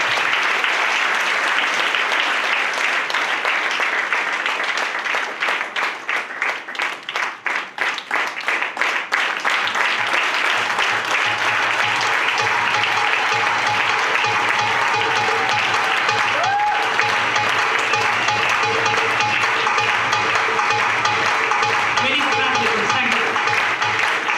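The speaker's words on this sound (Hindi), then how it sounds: "कभी ताली बजाओ दोस्तों" Audience at a business talk bursts into loud, sustained applause, a dense crackle of many hands clapping that dips briefly in the middle, then continues to the end.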